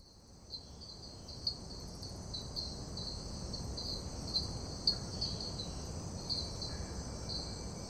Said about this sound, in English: Dusk with all the bugs.